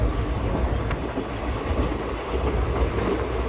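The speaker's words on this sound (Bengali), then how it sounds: "আমাদের এই ট্রেনটা এর পরের স্টেশন রামনাথপুরমে দাঁড়াবে।" Passenger train on the Madurai to Rameswaram line heard from inside a carriage, with a steady rumble and rhythmic wheel clatter that runs continuously at close range with no voices.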